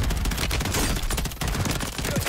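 Rapid gunfire aimed at the player in Warzone 3 (Modern Warfare 3) video game: loud, close, dense volleys of shots, with a short break in the middle, with no talk.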